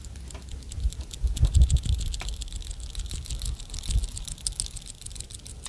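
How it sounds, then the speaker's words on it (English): A small BB inside a fishing lure's built-in rattle chamber is shaken close to a microphone, giving quiet, scratchy clicking bursts in short rapid shakes against a faint background hiss. "this actually has a built-in rattle chamber"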